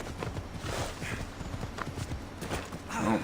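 Horse hooves clip-clop at a gallop in Assassin's Creed Odyssey, a quick rhythmic pounding that continues across the whole stretch, with game ambience and a short burst of other noise toward the end.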